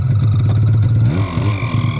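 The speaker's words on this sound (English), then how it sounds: "Sounds like Carter's truck when he starts yelling" A truck engine revs hard nearby, a low rumbling drone that climbs and wavers in pitch, with a faint rubbing clatter from the belt, loud and close throughout.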